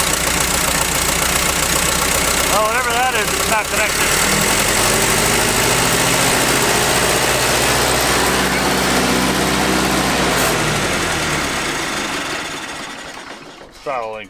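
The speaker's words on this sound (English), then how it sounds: "Try to rev it here, see if it's a governor issue." An old abandoned tractor engine runs rough and revs slowly, a loud continuous mechanical drone with knocking pulses throughout, while someone talks over it near the start.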